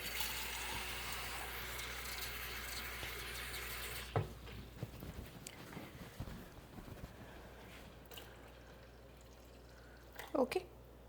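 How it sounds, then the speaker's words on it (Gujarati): Water is poured into a homemade date-tamarind chutney, giving a steady splashing wash for about four seconds. Quieter handling noises and a few light clinks follow, ending in a short sharp knock. "થોડું બીજું પાણી પણ એડ કરી દઉં હું"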